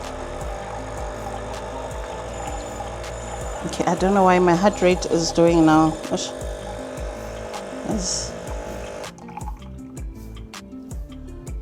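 A Nespresso coffee machine pours hot water during a cleaning run, a steady liquid dribble and fill sound running under frequent nearby talk, with a louder gurgling burst midway before the flow tails off.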